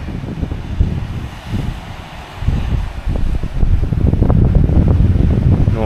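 Gusty wind roars against the microphone of a runner climbing a mountain trail during a 42 km Kalandzha race, a continuous low rumble that swells louder toward the end.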